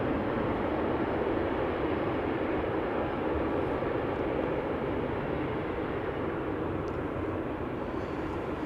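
A Croatia Airlines plane from Zagreb arrives at Amsterdam Schiphol, a loud continuous broadband jet roar that holds steady throughout with no talk.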